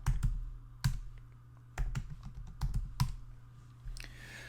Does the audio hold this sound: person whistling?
no